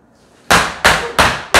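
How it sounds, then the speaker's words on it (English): A meat mallet pounds meat flat to a quarter-inch thickness: four loud, close, evenly spaced thwacks after a short quiet start. "now we can start pounding it till it's 1/4 of an inch thick."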